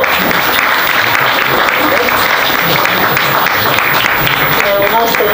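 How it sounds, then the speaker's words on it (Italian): Audience at a Democratic Party (PD) metropolitan city meeting applauds Francesco Pierantoni, a new member: steady, dense clapping filling the room throughout, with a voice briefly audible near the end. "volevo che ringraziassimo anche con un applauso Francesco Pierantoni"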